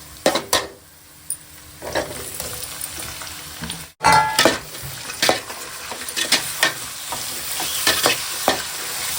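Tomatoes tossed into softened onions for a fish curry sizzle and fry steadily in a pan, with repeated stirring scrapes and occasional utensil clinks, close and alone with no talk.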